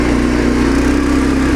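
An MTZ 132N mini tractor runs in third gear, its engine droning loud and close with a steady low hum and fast, even throb and no voices.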